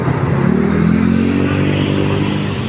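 A motor tricycle's engine runs loud and close, a steady mid-pitched throb with a slight rise in revs and some rattling clatter, with no voices over it.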